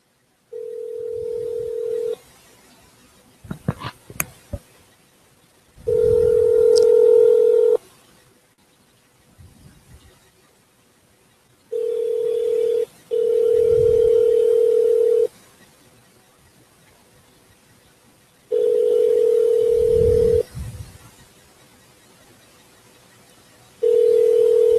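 Telephone dial tone and ringback on a call to a school superintendent, steady tone bursts of about two seconds repeating with silent gaps, loud and clear, with a few brief keypad beeps early on.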